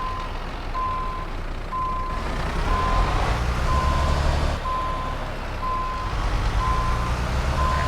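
Volvo FH Classic truck reversing in Euro Truck Simulator 2, its backup alarm beeping steadily at an even rhythm over a low engine drone.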